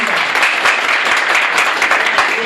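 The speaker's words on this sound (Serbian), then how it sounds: "Ja mislim da je ovo za jedan aplauz još jači za našeg Cvrleta." Loud, dense applause fills the room at a Serbian high-flying pigeon competition awards ceremony, honoring the winning bird with sustained clapping and no break.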